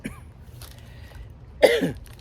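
A single sharp cough bursts out near the end after a quiet stretch, close and fairly loud.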